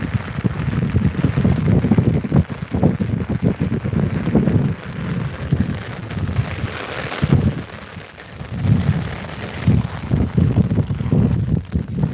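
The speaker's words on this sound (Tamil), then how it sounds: "காற்று வேகமாக அடிக்க ஆரம்பிச்சு" Strong wind gusting and roaring against the microphone in uneven surges during a rainstorm in Tirunelveli, India, loud and close, with a rushing, rain-like texture underneath.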